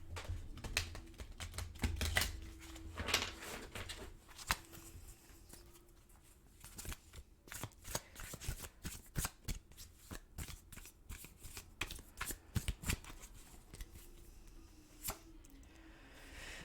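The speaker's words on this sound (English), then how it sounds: "Just give this a nice little shuffle here." Cards are shuffled in quick, crisp riffles and flicks, close and fairly quiet, with bursts of snapping between softer pauses.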